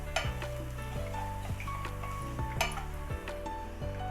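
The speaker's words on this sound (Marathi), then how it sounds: "पण मी डायरेक्ट पॅनमध्येच बारीक करते" Green peas are crushed directly in a pan for kachori filling, with repeated light clinks and scrapes of a utensil against metal over a faint sizzle, close and quiet, with no voices.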